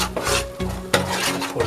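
Fish curry being stirred in a pan in a home kitchen, giving a scraping, rasping stir of a spoon against the pan with soft clinks, in steady repeated strokes, close and fairly loud with no voices.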